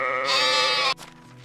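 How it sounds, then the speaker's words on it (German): A sheep ram bleats in the Medieval Dynasty video game: one loud, sustained, wavering bleat close up that cuts off abruptly, followed by a low quiet background. "Aber es ist ja ein Schafbock."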